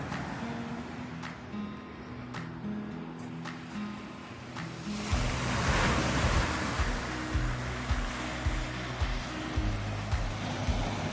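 Ocean surf rolls steadily at Castaway Cay, a broad continuous wash that swells louder midway through as a wave breaks closer, with a low rumble beneath.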